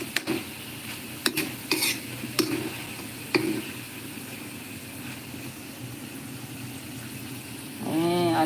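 Potatoes fry in a pan with a steady, close sizzle. A few sharp clanks of a utensil stirring come early, and a short low rumble follows near the end.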